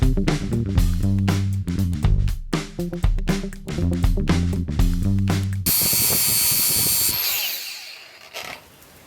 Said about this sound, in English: now we'll just take the flap wheel